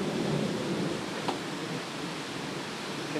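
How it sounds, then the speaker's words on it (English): Low rumbling thunder rolls under steady heavy rain, a broad wash of noise with a faint sharp crack partway through. "You can hear the thunder."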